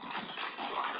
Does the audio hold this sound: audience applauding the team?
no